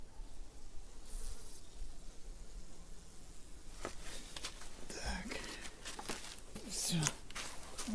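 Honey bees buzz in a low, steady hum inside a hive, while someone speaks softly nearby, placing candy feed and handling the lid with rustling hands.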